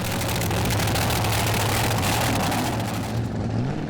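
A pulling tractor powered by a 1500-horsepower Chevy 572 engine roars loud and continuous at a tractor pulling championship, a deep steady drone with a slowly rising and falling pitch.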